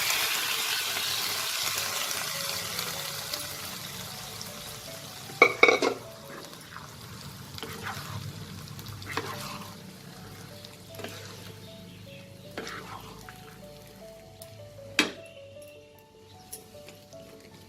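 Boiled chickpeas are stirred into a masala gravy in a pan for Bengali-style chana masala. A soft, low sizzle runs under gentle stirring, with a few sharper clinks and scrapes of a utensil against the pan.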